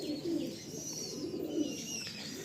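Kalsira pigeons offered for sale, cooing in a soft, steady low murmur that rises and falls throughout, close by with no talking over it.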